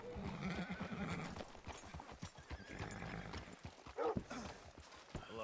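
Horse hooves clip-clop steadily in Red Dead Redemption 2, a rhythmic run of close, moderately loud hoofbeats, joined by a brief whinny and a few other movement noises.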